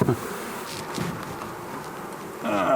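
A swarm of bees in a shed sends up a steady droning hum of many insects close by, with no talk over it.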